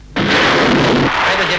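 Artillery battery firing, one loud, close, heavy boom with a sudden onset and a long roaring decay.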